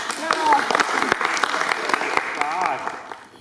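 Scattered clapping from participants at an improv workshop, irregular sharp claps over a murmur of voices and movement, fairly close and tapering toward the end.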